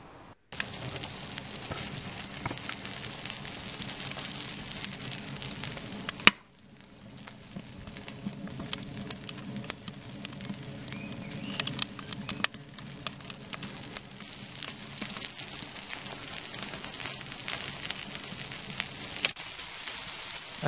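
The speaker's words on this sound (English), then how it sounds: "As I had the stove going anyhow, thought I'd do myself some cheeky burgers" Burgers sizzle steadily on a portable Outbacker wood burner stove, a close, continuous hissing crackle with a sharp clank partway through and occasional pops, no talking.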